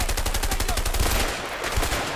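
MP5 submachine gun fire in the video game A Way Out, fired in fast continuous rattling bursts, loud and close, with no talking over it.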